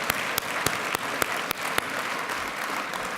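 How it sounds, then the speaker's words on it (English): An audience applauds after an exciting presentation at a Texas Medical Center event, a dense, steady round of clapping from a large crowd, loud and close, with a few sharper claps standing out. "Let's offer Bill another round of applause for an extraordinarily exciting presentation."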